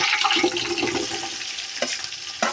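Onions with green chillies frying in a pan for biryani, a soft, steady sizzle with a few scrapes and clinks of stirring, close and fairly quiet, no voices.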